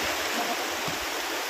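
Shallow forest stream water runs around the legs of someone wading through it near Lonavala. A steady, close rushing hiss carries on without pause, and no one speaks.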